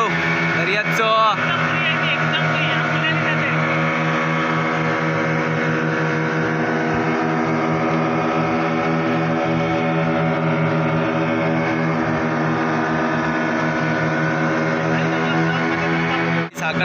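A deep-sea fishing boat's engine throbs steadily and loud throughout at sea off Sakhartar, Ratnagiri, with someone talking over it.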